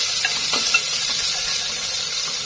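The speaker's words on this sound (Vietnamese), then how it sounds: "Mình cho một ít dầu ăn vào nồi nha, mình cho phân nửa tỏi ớt vào." Garlic and chili sizzle in hot cooking oil in a pot, a close, steady crackling hiss with small pops, no voices.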